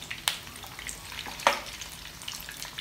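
Mutton chops sizzle and fry in a pan with a steady crackle, broken by two sharper pops and spatters, with no voices.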